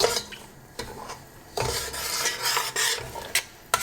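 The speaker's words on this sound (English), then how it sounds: "this is the Adadiya flour. I'm just going to mix this in." A spoon stirs Adadiya flour into ghee in a pan for Methi Pak, giving close scraping and rasping strokes with a few soft clinks against the pan and faint sizzling underneath.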